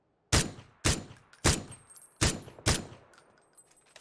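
An SKS rifle in the video game PUBG fires five sharp, loud shots at uneven intervals, each with a short decaying tail, with no talking.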